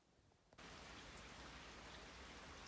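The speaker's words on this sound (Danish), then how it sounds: "Det regner sindssygt meget." Heavy rain pours outside on a drive home, the steady dense hiss of downpour starting abruptly and continuing loud and unbroken.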